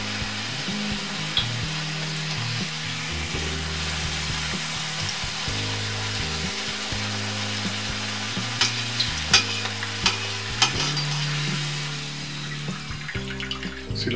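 A home-made taco shell frying flat in a pan that it fills, a continuous close sizzle under background music, with a few sharper crackles and pops near the end.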